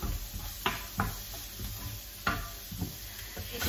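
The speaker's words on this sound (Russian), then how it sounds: "Здесь у меня жарится лук" Onion frying in a pan gives a quiet, steady sizzle with a few soft clicks and stirring knocks scattered through it.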